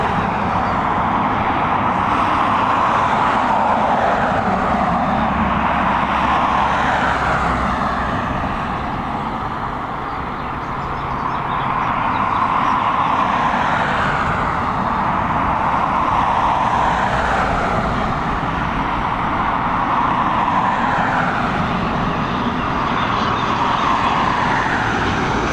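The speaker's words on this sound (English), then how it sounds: "Got an ATR just coming in." Broad, steady roar of an ATR turboprop airliner arriving at Dublin Airport, loud and sustained throughout with a slight dip and swell midway, no talking.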